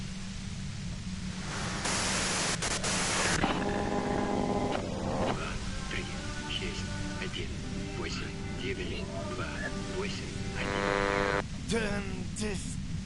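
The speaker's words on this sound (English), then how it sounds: "you can do it through the white noise." Broadband static hiss fills a scene in the video game Disco Elysium, steady and loud, running under a conversation with bursts of denser noise and tonal game sounds.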